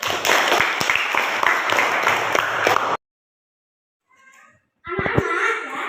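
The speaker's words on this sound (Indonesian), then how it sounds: "Tepuk tangan untuk kelompok 1." Classroom applause for a student group: a loud, dense burst of clapping that cuts off into silence, with faint voices before the clapping picks up again.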